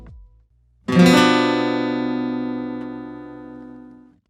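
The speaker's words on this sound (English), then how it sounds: "our traditional 7 chord would sound something like this" A single guitar chord, a traditional 7 chord, strummed once, ringing out bright and full, then slowly decaying over several seconds with no other sounds.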